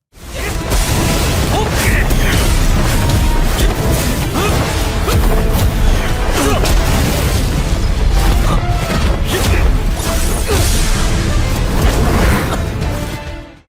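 Two fighters turned to comets collide in an animated story, making a dense sustained roar of crashing, whooshing and booming that stays loud and unbroken for over a dozen seconds, with a voice partly buried in the din.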